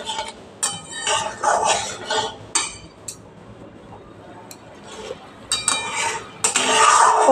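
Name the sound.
stirring spices in a pan while cooking hilsa fish curry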